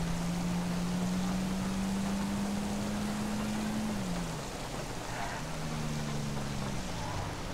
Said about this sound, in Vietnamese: Gặp đường trời mưa nữa chứ.